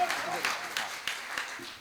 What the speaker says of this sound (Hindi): मेरे भाई के लिए जोरदार ताली